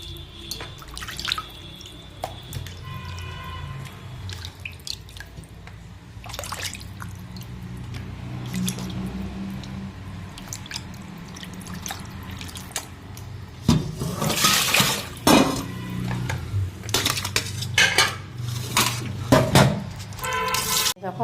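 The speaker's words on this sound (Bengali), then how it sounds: "এখন মাছগুলো ধুয়ে নিচ্ছি" Fish being rinsed under water in a kitchen, with splashing, dripping and running water in irregular bursts, quieter at first and then louder, busier sloshing toward the end.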